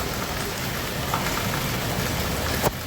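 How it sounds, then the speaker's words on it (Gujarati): Steady heavy rain pours down in a broad, unbroken hiss that holds close and loud throughout, with one sharper splash near the end and no voices. "વધ્યો એ વરસાદ જો અત્યારે અમુકનો વધ્યો હજી"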